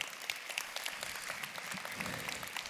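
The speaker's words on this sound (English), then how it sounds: "Yeah, you can applaud for that." Steady applause from a convention audience fills the moment, a dense wash of many hands clapping at an even level, moderately distant and without pause.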